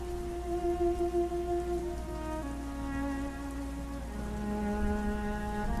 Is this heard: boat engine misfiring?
no